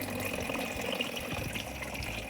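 Water trickles and funnels down through the tiers of a tilted Greenstalk vertical garden planter, a steady, soft gurgling flow with no voices.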